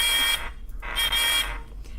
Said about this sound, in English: Let's check it's working. I can hear something buzzing.